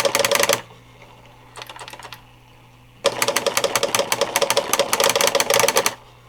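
A vintage CGP-115 printer/plotter prints out its character set in rapid bursts of pen tapping and clicking, a short burst, a pause, then a longer busy run of mechanical chatter before stopping.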